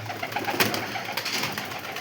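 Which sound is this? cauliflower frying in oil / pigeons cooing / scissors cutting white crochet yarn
pigeons cooing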